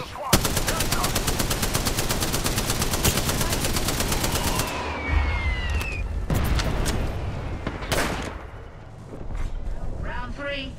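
Gunfire in the video game Apex Legends: a rapid, evenly spaced machine-gun burst runs for several seconds, followed by scattered louder single shots and mechanical clicks, with a voice talking over parts of it.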